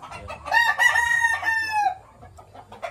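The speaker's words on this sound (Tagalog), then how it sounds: "Ganda ng mga manok from Livestrong Farms" Roosters from Livestrong Farms crow in a long, loud call lasting more than a second, with chickens clucking softly around it and a low steady background hum.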